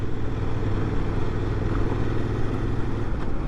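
Engine of a 2024 Honda Transalp motorcycle running while riding, a steady close low rumble with a slight change in tone around a downshift, mixed with wind noise.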